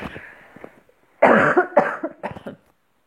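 Soft talking at first, then a pause and a burst of three loud, close, harsh coughs.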